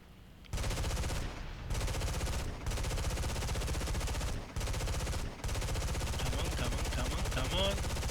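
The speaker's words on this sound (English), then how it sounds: "I think I have actually overheated some of my machine guns." Aircraft machine guns in the War Thunder flight game fire in long, loud, rapid bursts, broken by a few brief pauses, with faint engine drone between them.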